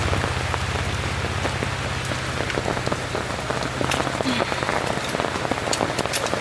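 Heavy rain pours steadily onto surfaces during a downpour with a river in flood, a dense continuous hiss with scattered close drops spattering, loud and unbroken throughout.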